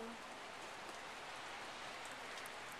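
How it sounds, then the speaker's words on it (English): Steady rain mixed with snow falls as a soft, even hiss, faint and continuous with no voices. "It's already snowing with rain."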